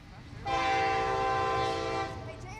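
A train on the rebuilt railroad bridge at Bay St. Louis sounds its horn in one sustained, loud blast of about a second and a half over a low rumble.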